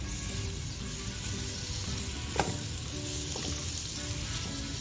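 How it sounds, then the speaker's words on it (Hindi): Sliced onions sautéing in hot oil give a loud, continuous close-up sizzle, with a brief clink from a utensil about halfway through and no talk. "अब इसमें प्याज स्लाइस में जो काटी थी वो डाल दीजिए और इसको सॉफ्ट कर लीजिए अच्छी तरह से"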